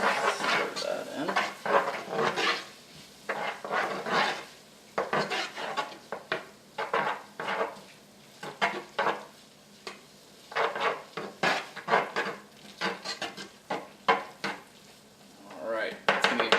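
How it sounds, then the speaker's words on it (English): A spoon stirs tomato paste into turkey chili in a pot, with a run of uneven scraping and clanking strokes against the metal and a faint sizzle beneath, loud and close, no talking. "Stir that in."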